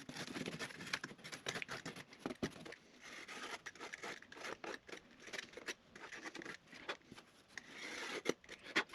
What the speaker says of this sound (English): And we just got to trim the edges.